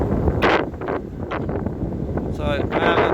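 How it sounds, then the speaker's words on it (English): Heavy wind buffeting the microphone in the churchyard of 13th-century All Saints Church, Nailstone, a constant low rumble with gusty bursts, while a voice talks intermittently. "You see how windy it is, look."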